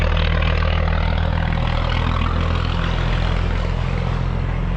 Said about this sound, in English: Exhaust, it's like someone's welded a dustbin.